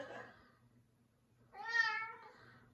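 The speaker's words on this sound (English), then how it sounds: "what are you meowing about?" A cat sitting on a toilet in a dark room lets out a single clear, drawn-out meow at close range after a brief stretch of faint background murmur.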